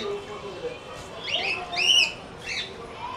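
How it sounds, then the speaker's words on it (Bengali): A cockatiel in a park aviary gives a few short, rising whistled chirps, one clearly louder, at a moderate distance over faint background murmur and soft voices. "এটা হলো কোকাটেল পাখি"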